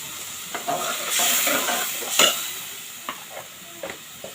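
Onion paste for a country chicken curry fries in a pan, with scraping stirs and bursts of sizzling that rise and fade in uneven strokes at close range.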